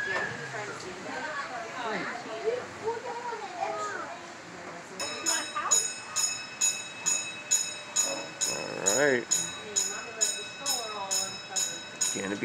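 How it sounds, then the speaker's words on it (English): A zoo's miniature railroad train ride at a children's zoo: children and adults chatter aboard, then a steady rhythmic clacking of wheels on rail joints starts up and continues under the voices. "I'm on the train right now"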